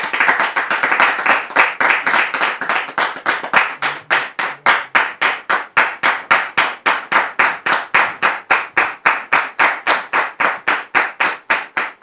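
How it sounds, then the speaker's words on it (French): A studio audience applauds to welcome a guest's father onto a French talk show, loud dense clapping that settles into a strong, evenly paced rhythmic clap in unison, continuing for about twelve seconds. "merci de recevoir sous vos applaudissements le père de notre invité du jour"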